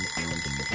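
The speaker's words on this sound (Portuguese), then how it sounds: "Agora já descobri onde foi parar o meu despertador." An alarm clock rings continuously, a bright, insistent metallic bell that keeps going without pause, close and loud.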